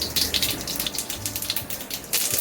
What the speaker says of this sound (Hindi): अब इसके अंदर आधी टीस्पून राई डाल देते हैं